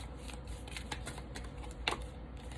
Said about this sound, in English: I shuffle in between